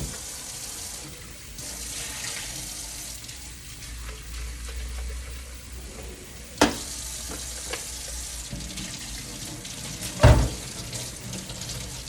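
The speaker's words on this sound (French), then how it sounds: "je procède au nettoyage du réservoir d'eau et du filtre à eau" Water runs steadily from a tap over the water tank and filter of a Tineco floor cleaner being rinsed in a sink, a continuous close splashing hiss with a couple of brief knocks of plastic.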